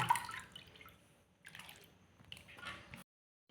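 Potato slices lifted from a bowl of rinsing water drip and splash in short, wet bursts separated by quiet pauses, close and fairly soft, with no talking.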